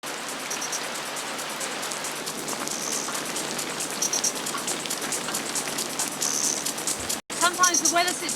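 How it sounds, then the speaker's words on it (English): Heavy rain shower in Africa pours down steadily with large raindrops drumming on surfaces, a dense continuous hiss that briefly cuts out near the end before resuming, while people talk faintly in the background. "the skies open up in a torrent. A nice cooling shower."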